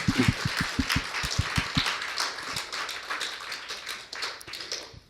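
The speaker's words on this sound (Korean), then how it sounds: "예수님의 이름으로 주님께 힘찬 박수를 올려드립니다" A church congregation claps together to praise God during a Korean worship service, a dense, steady burst of hand claps filling the room for about five seconds, with a few sharp close taps at the start.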